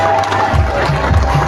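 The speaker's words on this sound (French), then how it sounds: "Merci de faire un maximum d'applaudissements pour le champion" An outdoor crowd at an official ceremony in Makokou cheers and claps for a champion, a loud, steady wash of voices and applause with scattered shouts rising over it.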